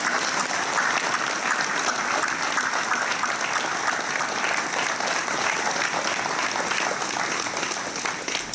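Sustained applause from a seated audience at a New Year's greetings ceremony in Tarbes, a steady dense wash of clapping hands that holds evenly throughout, with no speech over it.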